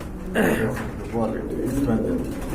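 A pair of large racer pigeons cooing close by, with soft throaty coos rising over a continuous murmur of background voices.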